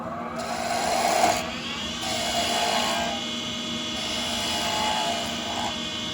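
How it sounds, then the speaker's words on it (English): A spindle gouge cuts wood on a spinning lathe, making a steady, close whirring drone with rough scraping texture that swells slightly around the second second and then holds even to the end. "we're gonna use our spindle gouge on here, just so you guys can see the difference in the way they cut"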